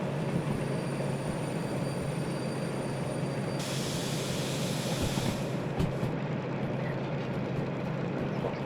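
A locomotive in the Derail Valley video game, hauling a single wagon, runs with a continuous low rumbling drone that holds at an even, moderate level throughout, with no one speaking.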